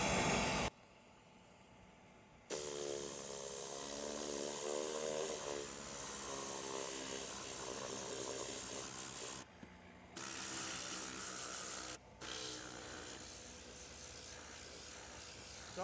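A Tornador air gun blasts dust from a car's interior during detailing, loud hissing bursts of compressed air with short pauses in between.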